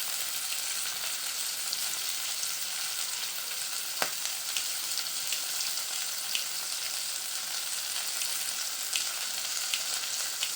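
Capsicum and green chillies fry in a pan for curry, making a constant, even sizzle with a single sharp click partway through and no voices.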